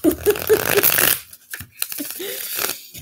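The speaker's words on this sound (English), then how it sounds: "Let me shuffle one more time." Tarot cards are shuffled in a brief close riffling burst during the first second, then quieter handling follows under a faint voice.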